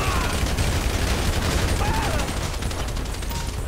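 Dense, continuous gunfire from the video game GTA V, rapid bursts and volleys layered into a loud, unbroken barrage with no pauses.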